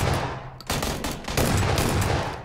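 Burst-fire gunshots in the video game PUBG crack in rapid clusters, loud and close, forming a dense continuous volley with short gaps between bursts, no talking.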